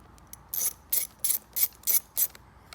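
Ratchet clicking in six short, evenly spaced bursts as it drives the last screw into the plastic of a Tesla Model 3 steering wheel during a carbon fiber wheel install, close and crisp with no talk.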